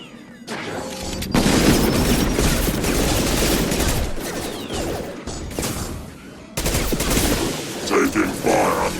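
Heavy, sustained gunfire and booming impacts in the video game Mass Effect 2, a dense, loud barrage with crashes and a short break before the firing resumes, with voices underneath.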